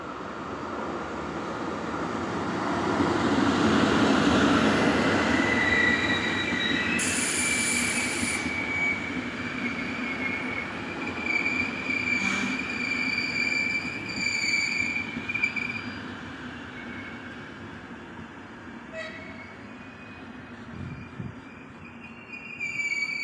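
RegioJet passenger train pulling into a station, a loud rumbling approach followed by sustained high wheel squeal and scattered metallic clicks as it slows, with no talk.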